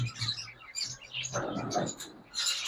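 Sun conure parrots chirp repeatedly in a busy bird shop, bright overlapping calls close by with a low hum beneath.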